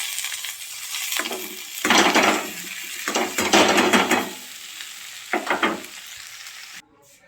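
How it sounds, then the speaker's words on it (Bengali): Soaked flattened rice being stir-fried with already fried vegetables in a pan: a few bursts of scraping and stirring with crackling sizzle between quieter gaps, heard up close. "সবজিগুলো ভাজা হয়ে গেছে। এখন আমরা এর ভিতরে দিয়ে দেবো ভিজিয়ে রাখা চিড়া।"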